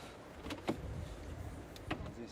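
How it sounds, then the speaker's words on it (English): A motorized center console slides backwards in a Deepal S09 car cabin, a soft electric motor hum with a couple of light clicks and knocks, close and quiet. "The console can move backwards."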